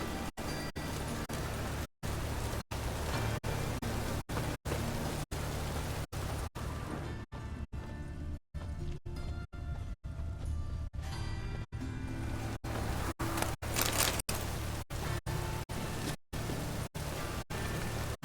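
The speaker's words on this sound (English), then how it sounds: "Rain, I like rain." Steady rain falls over a town in The Witcher 3, a dense, even hiss that runs continuously, broken by several brief dropouts.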